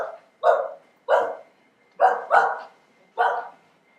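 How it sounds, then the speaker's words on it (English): A dog barks on a beach: five loud, close single barks in an uneven rhythm, two of them in quick succession, with quiet gaps between. "she hears the sound of a barking dog."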